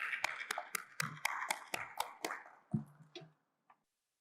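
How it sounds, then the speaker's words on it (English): A small audience at an automotive industry summit panel gives scattered handclaps for a moderator. The claps are crisp and fairly close, starting together, then thinning out and dying away, with one last lone clap after a short silence. "So, please get a big applause."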